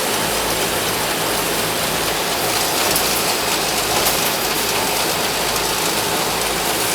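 A fence-wire production machine cutting wire to length runs as a steady, loud mechanical clatter with a continuous ratcheting, gear-like churn and no pauses throughout.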